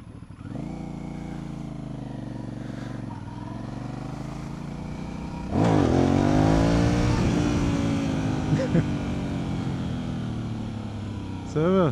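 A Kawasaki Z1000 motorcycle revving hard for a clutch wheelie, its engine held at a steady idle drone and then surging to a loud, rising rev midway that stays high and close, with voices talking in the background.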